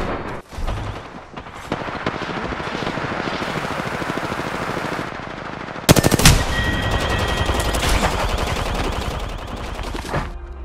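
Automatic gunfire in Apex Legends, long sustained bursts with a sharper, louder volley of shots partway through, game effects ringing over dense continuous firing.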